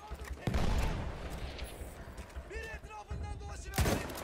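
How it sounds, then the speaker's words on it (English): Battlefield 1 combat noise with a grenade going off, heavy booming blasts and gunfire bursts, loud and close, with a strong hit near the start and another near the end and calmer stretches between. "Oh, that's a grenade."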